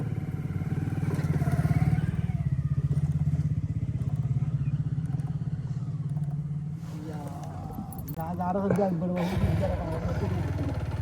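A motorcycle engine drones steadily at close range while riding along a road in Sylhet, with people talking over it and a horn sounding briefly near the end.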